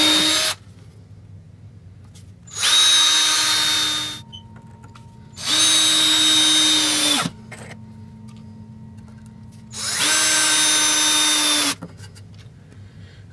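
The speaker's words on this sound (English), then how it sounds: "I'm going to start pre-drilling these holes" Power drill pre-drilling holes in a wood board while building a portable LED shop light, three loud sustained whirring bursts of about two seconds each, close up, separated by pauses with a faint background hum.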